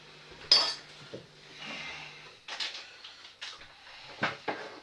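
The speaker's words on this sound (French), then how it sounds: "Je vais vous faire voir comment que je coupe, moi, un melon." Knife slicing into a melon in a home kitchen: a sharp crisp cut near the start, then several further firm slicing and tapping strokes against a board, close and fairly quiet with no talking.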